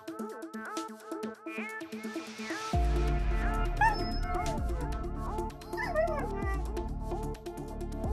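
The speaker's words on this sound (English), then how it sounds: "Appenzeller dog." An Appenzeller dog gives a run of high, short yips and whimpering cries, close and fairly loud, over sustained background music.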